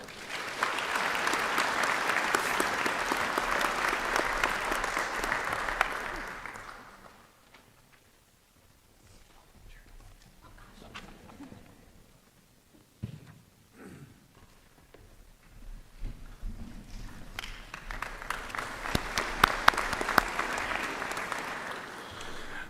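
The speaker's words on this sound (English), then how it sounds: "Please give a round of applause to our second award winner," An honors convocation audience at the University of Dubuque applauds an award winner. Loud, full clapping fades to near quiet with faint scattered sounds, then swells again into strong applause.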